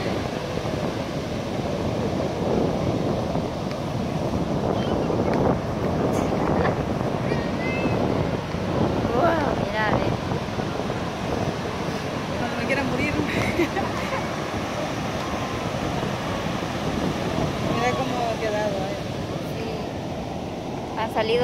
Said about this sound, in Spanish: Salido bastante las olas